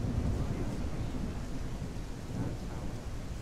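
Continuous rain pours in the remade Gothic 1, a dense, even wash with a deep thunder rumble rolling underneath, steady and moderately loud throughout.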